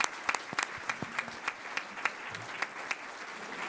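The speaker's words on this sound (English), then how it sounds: "So just a quick round of applause." A small group claps, a light scattering of individual hand claps rather than a big ovation, fairly close and brief.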